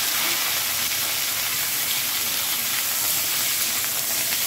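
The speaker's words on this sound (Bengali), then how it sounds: "আমি ঢাকা দিয়ে এটা হালকা ভেজে নিচ্ছি" Okra fries lightly in a small amount of oil under a covered pan while mustard paste is prepared. A loud, steady hiss and sizzle runs unbroken and is heard on its own.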